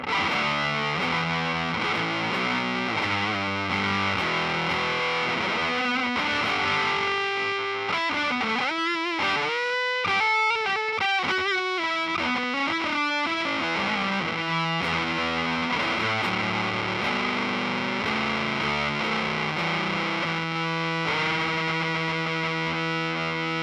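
An electric guitar played through an Electro-Harmonix Big Muff Op Amp fuzz pedal, turned way up, snarls with thick, saturated fuzz across a long run of chords and bent, sputtering notes, loud and continuous with no talking.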